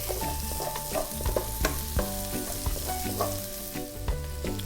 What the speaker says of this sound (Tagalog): Hahayaan lang natin matusta ng konti yung ating garlic.